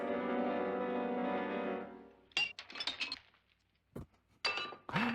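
Glass clinks and shatters in a movie scene, a few sharp bright crashes and tinkling fragments scattered over several seconds after a sustained tonal passage fades out.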